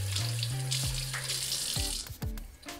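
Tap water runs and splashes over whole fish being rinsed in a sink, with the flow changing and gurgling as the fish are handled, close and fairly loud.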